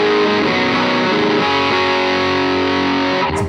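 Electric guitar through a Pigtronix Disnortion pedal set to the mid-push position on the back pickup, a dense, sustained distorted chord ringing loud and close, then cut off abruptly at the end.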